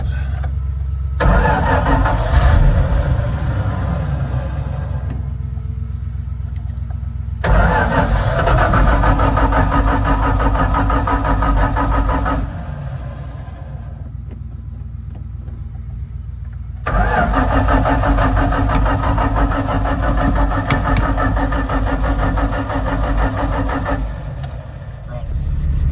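A Plymouth-style slant six car engine cranks and catches several times, settling into a loud, steady idle between restarts, close up, with a voice talking over parts of it.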